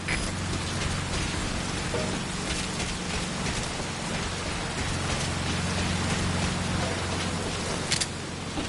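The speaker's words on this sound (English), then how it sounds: "That rain just won't let up." Steady rain pours down in a Metal Gear Solid V: Ground Zeroes game scene, a dense, even hiss that holds for the whole stretch alongside a low, constant hum.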